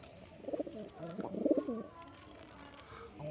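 Pigeons for sale cooing softly, two short low throaty bursts close together, fairly faint and alone.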